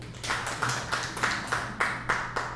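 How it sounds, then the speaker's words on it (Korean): A small group at a Buddhist temple class claps hands in a loose, fairly even rhythm, about nine or ten distinct beats, moderately close with a faint hum beneath. "박수"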